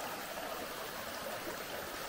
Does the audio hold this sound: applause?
no